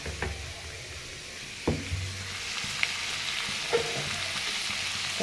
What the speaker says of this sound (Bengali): এবারে আনাজগুলো দিয়ে দেবো,